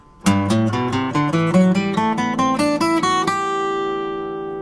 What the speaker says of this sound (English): there was a whole lot of string noise